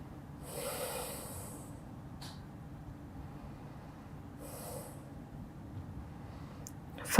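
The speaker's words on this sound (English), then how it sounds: "Just some deep breaths right here." Slow, deep breaths during a gentle morning yoga stretch: two soft, airy exhales about four seconds apart, quiet and close over a low background hum, with no one speaking.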